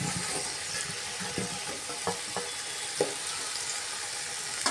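Vegetables frying in hot oil with turmeric and salt, a steady close sizzle with small crackles and pops running throughout, no voices.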